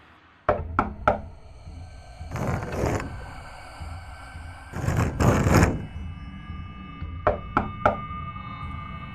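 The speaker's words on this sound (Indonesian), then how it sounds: "terdengar jelas suara ketukan pintu dan suara cakaran bergantian" Knocking on a door comes in short bursts of three sharp raps, spaced apart, alternating with longer rough scraping or scratching sounds against the wood, all fairly close.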